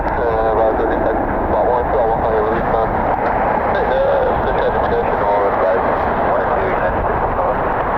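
Airliner jet engines at Cleveland Hopkins airport roar steadily at a distance, a broad continuous rumble and whine while someone talks over it throughout.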